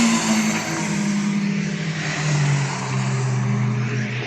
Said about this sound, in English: I'm pretty sure that is a Vauxhall Nova